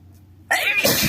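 A single sharp sneeze bursts out close up after a brief quiet moment, loud and breathy, trailing off in a spray-like hiss.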